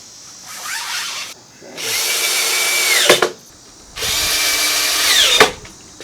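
A power drill drives screws into metal shelving legs in two sustained whirring bursts, each ending with a sharp tightening squeal, separated by a short pause with no talk.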